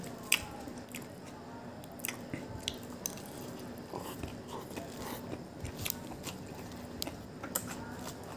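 Crisp, close biting and wet chewing of spicy Thai khanom jeen rice-noodle salad with fish, soft steady mouth sounds with occasional sharper crunches over a quiet background.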